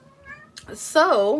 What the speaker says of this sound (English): that's my cat. She says hi.